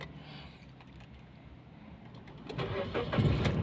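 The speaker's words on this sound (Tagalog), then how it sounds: "Ganito rin yung tunog ng makina." A Suzuki Celerio first-generation car engine cranks and turns over, the low rumble swelling louder toward the end as it catches and runs.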